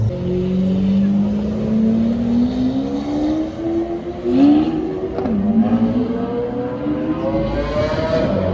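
A supercar, an S model, drives past on a Toronto street at night, its engine note rising steadily and then dipping as it goes by, followed by more revving from nearby traffic.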